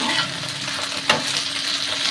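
Four or five chillies spluttering in hot oil: a continuous close sizzle with one sharp pop in the middle, no talk.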